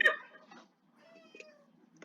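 A cat meows near the start, a short bright call, followed by fainter scattered sounds and a brief chirp-like tone in a quiet room.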